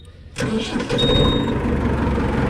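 A 1983 Ford 7610 tractor engine cranks and fires up abruptly after a quiet moment, then settles into a loud, steady, close diesel rumble with a faint whine riding on top.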